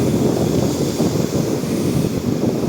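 Strong gusty wind roars across the open sea after a typhoon has passed, a loud, continuous rush with heavy wind buffeting on the microphone and no talk.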